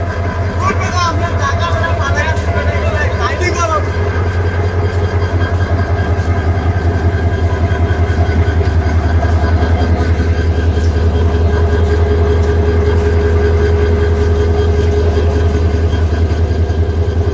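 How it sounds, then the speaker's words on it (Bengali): The Jayentika Express engine idles at a station platform with a constant, loud, deep rumbling hum. Voices and crowd murmur sit over the drone throughout. "ট্রেনের ইঞ্জিন দাঁড়ানো"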